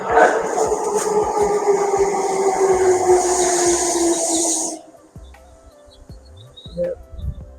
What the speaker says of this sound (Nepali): 11:07 भए सँगसँगै ट्रेन आइपुगेको छ।